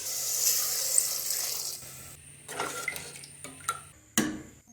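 Water pours steadily with a hiss into a pot of browned beef korma. Then metal utensils clink and scrape against the pot in a few sharp knocks, close and fairly quiet.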